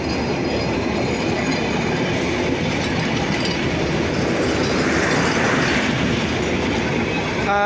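A WDM 3D diesel locomotive hauls the Simanto Express out of Saidpur railway station, a loud, steady rumble of engine and rolling carriages with continuous wheel clatter and no pauses.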